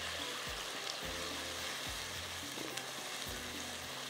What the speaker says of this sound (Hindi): थोड़ा सा इसको हमने अच्छी तरह से फ्राई करना है।